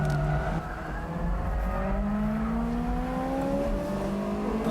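A tuned Honda S2000 with a 4.3 final drive accelerating hard on a track, its engine note climbing steadily through the revs in a loud, close, sustained pull.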